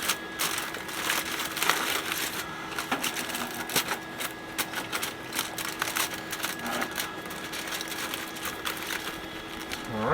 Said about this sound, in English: And seal it up with some foil.